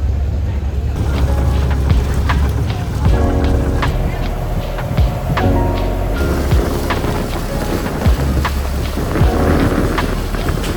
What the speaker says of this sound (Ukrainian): ми йдемо на кораблик, човен і пливемо десь туди